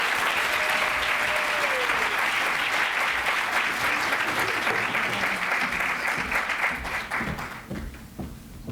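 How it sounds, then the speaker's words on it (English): Warm, sustained applause fills a Hispanic Heritage Month celebration as Congresswoman Veronica Escobar is welcomed to the stage, a thick steady patter of many hands that slowly thins and fades over the last couple of seconds. "Please join me in welcoming with a round of applause to Congresswoman Veronica Escobar to the stage"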